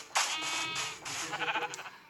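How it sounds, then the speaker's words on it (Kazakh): Sheep bleating several times in a short burst in Minecraft, close and fairly loud, with a slightly synthetic, looping quality and no talking. "Қора толып отыр бізде қойлар."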